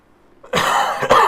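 One person gives a loud, close cough, a harsh burst followed by a second sharper hack, with no talking.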